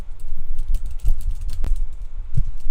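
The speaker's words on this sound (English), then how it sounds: "I have a new keyboard" Typing on a new computer keyboard gives close, thocky key presses in an uneven, quick rhythm, with deep clacks and an occasional sharper click.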